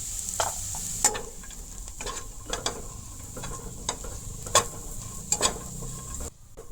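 Soybean chunks frying in a pan with turmeric and chili powder, a continuous close sizzle broken by sharp scraping clicks of stirring at irregular intervals.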